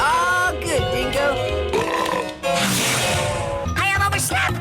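A cartoon alien lets out loud, long, exaggerated burps after drinking soda, with cartoon voices and music around them.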